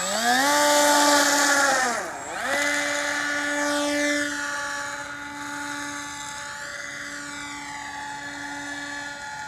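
A small aircraft engine revs and drones steadily through takeoff on a clear day in central Arizona, a loud buzzing tone that dips in pitch briefly, then climbs and settles as the plane pulls away.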